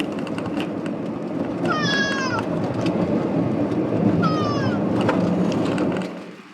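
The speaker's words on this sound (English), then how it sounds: "is not a happy kitty" An unhappy cat gives two drawn-out, wavering meows, close by, over a steady rumble of road noise while riding in a car on a back-roads drive home from the vet.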